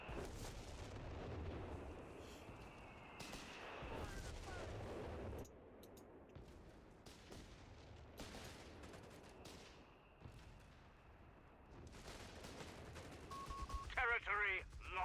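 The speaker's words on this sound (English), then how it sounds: "Base artillery coming in there." Base artillery and gunfire in a tactical war video game, irregular distant booms and cracks over a rumbling battlefield bed, ending in a cluster of sharper reports, with a commentator talking throughout.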